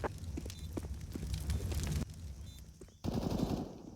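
Bursts of automatic gunfire in a CS:GO professional match on the Ancient map, rapid rattling shots with footstep-like clatter, loud and close, dropping briefly before a fresh volley near the end.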